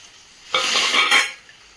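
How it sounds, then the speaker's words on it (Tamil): A single burst of stirring fried okra into boiling sambar in a pot, scraping and bubbling sizzle lasting under a second, close and fairly loud, with quiet before and after. "நம்ம ஆல்ரெடி வதக்கி வச்சுருக்கோம் வெண்டைக்காயை இதில் மிக்ஸ் பண்ணிக்கலாம்"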